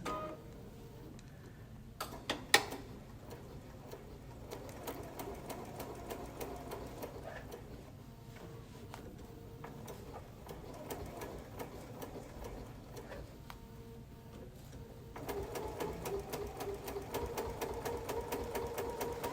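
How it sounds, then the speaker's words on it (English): Sewing machine edge stitching around a fabric bowl, a quiet, fast rhythmic whir, steady for long stretches with brief pauses and a sharp click, then picking up slightly louder near the end, with no talking. "I'm going to edge stitch an 1/8 of an inch around, all the way around"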